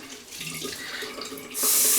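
Water runs from a tap at a sink to wet a sponge, a close splashing stream that swells to a loud, steady gush in the final half second.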